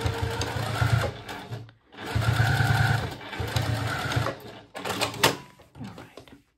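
A sewing machine runs in steady stitching bursts while sewing binding on a vinyl zipper pouch, with short pauses between runs, close and clear, and a voice talks over parts of it.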